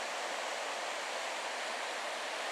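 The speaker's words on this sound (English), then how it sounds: "And here is a better shot of the river." River rushing through Johnston Canyon in Banff National Park, a steady loud broadband roar of churning water with no breaks.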